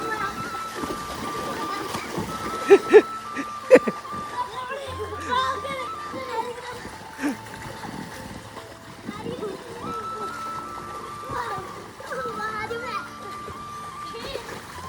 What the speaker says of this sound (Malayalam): വെള്ളത്തിന് കലക്കുക.